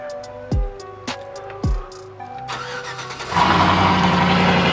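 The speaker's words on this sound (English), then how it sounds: "All we're simply gonna do is just turn the key." A 1999–2006 2WD GMC Sierra or Chevy Silverado truck starts with the ignition key: clicks and chimes, a few short cranking bursts, then the engine catches and settles into a loud, steady idle.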